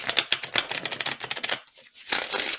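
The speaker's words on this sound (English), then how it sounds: "I don't know why I shuffled." Tarot cards shuffled by hand, a dense riffling flutter of rapid papery clicks close up, pausing briefly before a final burst of shuffling.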